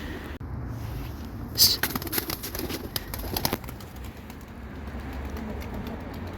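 Tumbler pigeons released from their coop burst out in a flurry of wing flaps and clattering that is close and loud for a couple of seconds before easing into quieter background sound.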